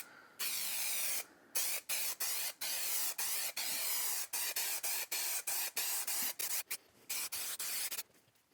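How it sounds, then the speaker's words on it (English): Repeated bursts of spray adhesive hissing up close onto carpet lining in a van build, each lasting a fraction of a second to a second, separated by brief pauses. "I'm just going to get a coat of spray."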